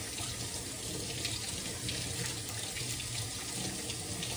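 A kitchen tap runs steadily as thawed meat is washed under it, a continuous close splashing rush of water at moderate level with no speech.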